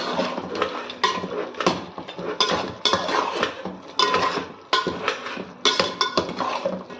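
Metal spoon scraping and clinking against a pot while chili powder is stirred into mutton curry, an irregular series of close scrapes and clanks with brief pauses between strokes.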